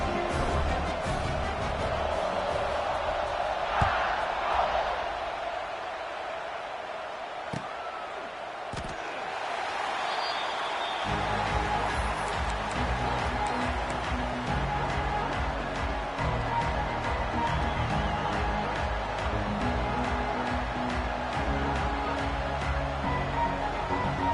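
A stadium crowd in a college football video game roars steadily throughout, a dense wash of cheering with occasional thumps and claps. Partway through, the crowd noise swells and deepens.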